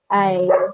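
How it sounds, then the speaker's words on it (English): A dog gives one short, close whining bark with a tonal, voice-like yelp that rises then drops, sounding indoors under a conversation. "Sorry about the dog."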